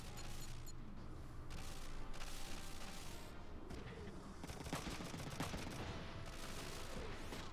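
Gunfire in the Front Mission 3 video game: dense, continuous bursts of shots and crackling impacts at a low, steady level throughout, with no speech over it.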